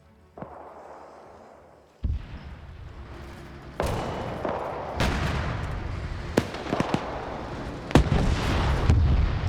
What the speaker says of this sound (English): You got AT firing down at these tanks